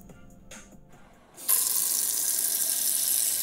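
Tap water suddenly gushes into a sink as a daikon radish is washed, a loud steady hiss of running water that starts partway through after a few quieter clinks and rustles, close up with no talking.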